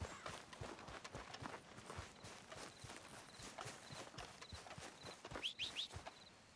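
Horse hooves clip-clopping in the video game Red Dead Redemption 2, a steady walking rhythm of repeated hoof strikes at moderate distance, with a few brief higher chimes near the end.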